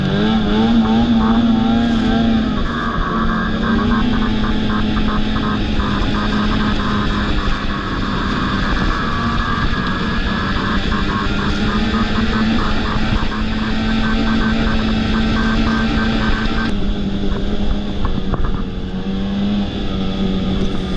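Snowmobiles on a Tug Hill trail in winter: a loud, steady engine drone right up close, holding a sustained pitch with slight rises and dips as the machines round a corner, with no speech.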